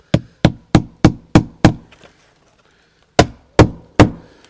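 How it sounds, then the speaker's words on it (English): Hammer strikes driving a nail through a roof shingle near flashing where the roof meets a wall: six quick, sharp, evenly spaced blows, a pause, then four more, loud and close with no talking. "So that's one nail in place."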